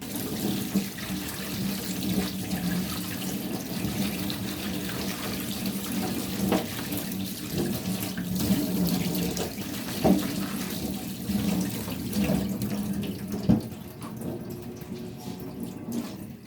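Water runs steadily from a tap into a sink, a continuous close splashing rush with a few louder drips and knocks, and no voices.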